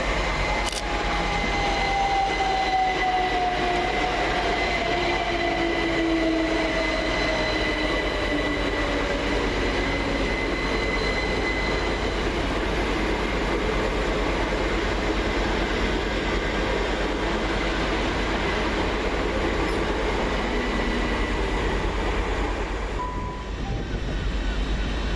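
Two coupled Class 387 Great Western Railway units roll into a station with a continuous close rumble of wheels and motors and thin squeals from the rails as they slow.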